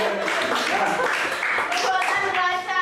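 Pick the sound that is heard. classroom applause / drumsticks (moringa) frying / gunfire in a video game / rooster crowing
classroom applause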